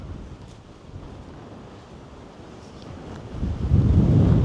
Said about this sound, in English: Wow, it really is breezy. Hopefully it's not too bad on the microphone.